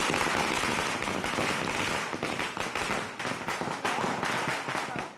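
Firecrackers burst in a loud, rapid string of cracks and pops. The sound is dense at first, then breaks into separate sharp bangs.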